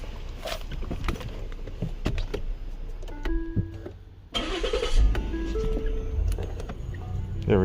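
A 2014 Lincoln MKX with a 3.7L engine that runs rough and stalls has its ignition key cycled: clicks and electronic chimes, a short near-silence, then the engine cranks and settles into a loud, close idle.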